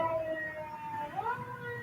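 Sirens wail outside, a rising and falling tone that swells slightly mid-way, heard at moderate distance over steady background noise with no talk.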